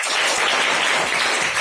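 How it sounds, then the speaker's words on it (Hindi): A classroom audience gives loud, sustained applause for the children after a test, a dense steady wash of clapping with no talk. "फिर से इन बच्चों के लिए जोरदार तालियां।"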